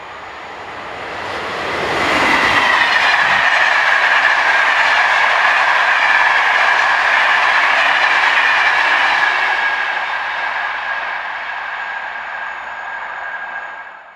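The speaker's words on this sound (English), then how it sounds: "The first of the evening's dedicated commuter services is about to pass with 1806 at the helm." Commuter train 1609 from Bruxelles Midi to Welkenraedt, hauled by locomotive 1806, passes near a station and level crossing. A loud approach swells in, holds as a sustained roar with a high electric whine and faint wheel clatter, then slowly fades.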